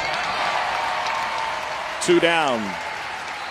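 Steady crowd noise and applause fill a college baseball ballpark at the College World Series, LSU against Oregon State, continuous and moderately loud beneath a play-by-play announcer's voice.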